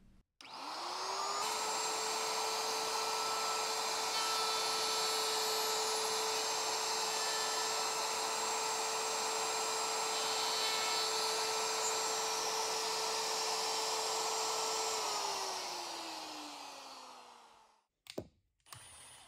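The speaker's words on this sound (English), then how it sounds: "and now I'll cut the shallow mortise." Plunge router cutting a shallow mortise in walnut, a loud whining motor that spins up, holds a steady high pitch for about fourteen seconds, then winds down, with a couple of knocks at the end.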